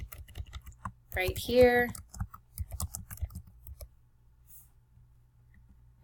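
Keys clatter on a computer keyboard in quick, irregular bursts, close and moderately loud, with a person speaking briefly over the typing before it thins into sparse clicks.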